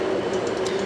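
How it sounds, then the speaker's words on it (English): A freight train rolling past rural farmland, a steady low rumble with a droning tone and faint rattling clicks, continuous and fairly loud throughout the short moment. "Ooh, and there's a train right there."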